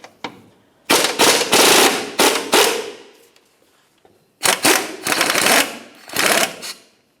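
An impact wrench loosens 19mm subframe mounting bolts on a 2009-2010 Pontiac Vibe, firing two loud close bursts of rapid hammering rattles, each a few seconds long, separated by a pause.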